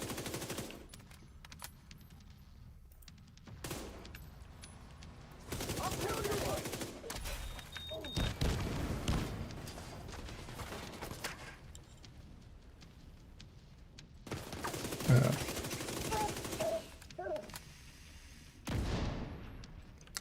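Submachine gun fire in a PvE video game fight comes as several long, dense bursts of rapid shots separated by quieter gaps, with a voice occasionally heard.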